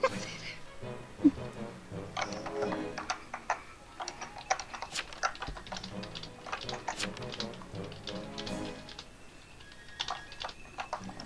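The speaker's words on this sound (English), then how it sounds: "I can hear you typing!" Rapid, irregular clicking of a computer keyboard during an online Town of Salem game, close and moderately quiet, with a steady hum beneath and no talking.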